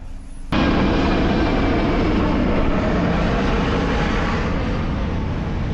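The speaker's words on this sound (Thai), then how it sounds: "บางทีมันจะมีเครื่องบินผ่านบ้านเลยครับเนี่ยผ่านหัวเลยเมื่อกี้น่าจะเสียงดังพอสมควร" An airplane passing low directly overhead a house, a loud, sustained broadband roar that starts abruptly and holds steady throughout, close and dominant with no talk.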